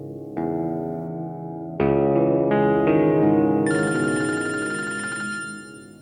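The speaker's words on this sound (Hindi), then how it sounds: "तुम फोन मिलाओ, मैं बात करती हूँ" Telephone ringing during a call, a bright electronic ringtone with stacked tones that enters in steps and swells louder, sounding alone and close with no talk.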